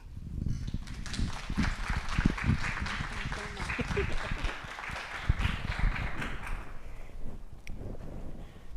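An audience applauds to welcome a visiting artist at a lecture: steady, dense clapping from a crowd indoors, holding at an even level throughout before slowly thinning toward the end.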